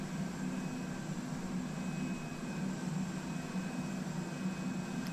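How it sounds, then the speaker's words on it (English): A simulated aircraft takes off in the Prepar3d flight simulator, likely near a PMDG 747-8F, giving a steady, even jet roar with a low rumble throughout and no talk. "Always fun watching an aircraft take off over the top of the other aircraft."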